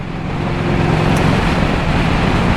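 A 1984 Harley-Davidson Tour Glide accelerating in third gear gives a steady, loud engine roar with a low rumble that swells slightly and holds.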